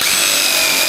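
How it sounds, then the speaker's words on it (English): Power drill boring a hole for an electrical install upgrade, a steady high-pitched whine running continuously and loud close to the listener. "What you got to do is you got to get a drill bit"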